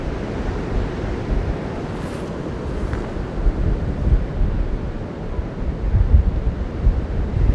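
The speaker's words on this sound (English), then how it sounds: "The wind is moving the camera." Cold wind buffets a microphone on a sunny seaside walk in Skegness. The low roar is steady and loud, gusting stronger toward the end, with faint surf beneath it.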